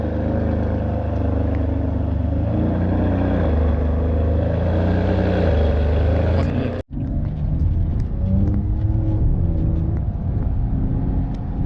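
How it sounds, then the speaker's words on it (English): A Ferrari 599 on a road drive, its engine a steady loud rumble heard from inside the cabin, with a brief dropout midway and low clattering road noise afterward, no talk. "This is my first drive in a Ferrari, and I'm thankful to Mr. Perego for taking me around in his 599."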